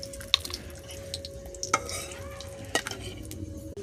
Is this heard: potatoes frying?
yes